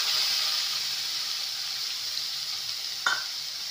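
Chopped medium-sized onion fries in hot oil with a steady, bright sizzle and a single sharp clink of a utensil partway through.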